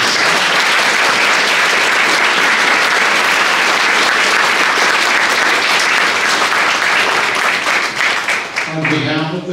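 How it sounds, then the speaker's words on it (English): A large hall audience at an awards event for veterans gives a sustained round of loud, dense applause, with a crowd murmur mixed in, holding steady before a voice starts to speak at the end. "How about one more round of applause for all of our veterans?"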